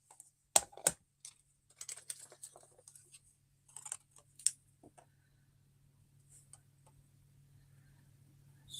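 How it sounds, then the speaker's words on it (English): Cardstock for a Mother's Day card is cut: a few sharp, scattered snips and clicks come close up, then a quiet low hum carries on alone. "Just going to cut that"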